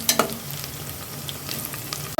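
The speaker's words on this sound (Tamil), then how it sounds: "உருளைக்கிழங்கும் வெங்காயமும் நல்லா வதங்கி வரணுங்க, அந்த அளவுக்கு நல்லா வதக்கி விட்டுக்கலாங்க" Potatoes and onions sauté in a pan over medium heat, a steady soft sizzle broken by a few stirring scrapes and clicks, with no voices.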